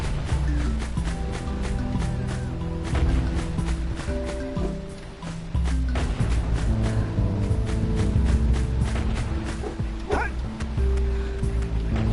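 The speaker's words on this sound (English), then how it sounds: "Bad doggy." A dog barks in the video game Jak and Daxter: The Precursor Legacy, with repeated yaps and yips cutting through dense, continuous game music and ambient surf.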